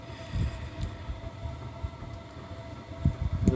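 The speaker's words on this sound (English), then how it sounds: "my heater that you can probably hear really loudly" A space heater blower drones continuously nearby, a low steady rumbling whir with occasional heavier thumps and fluctuations, alone without speech.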